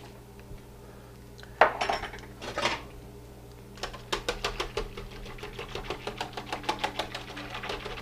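Whisk beating milk in a pot for homemade yogurt, a quick run of rhythmic metallic ticks against the pot after a couple of louder clanks, close and clear with no talking.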